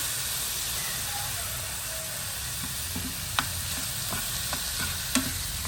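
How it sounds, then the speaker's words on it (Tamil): Tomatoes and tamarind sautéing in a pan for chutney give a steady, close frying sizzle, with a few light clicks and scrapes from stirring near the end. "வதங்கட்டு தக்காளி நல்லா வதங்கட்டும்"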